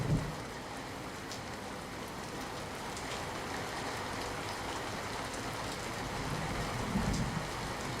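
Heavy monsoon rain falls steadily in Amreli, near Rajula's flooded Dhatarwadi river, a dense, even hiss of downpour on surfaces lasting throughout with no voices.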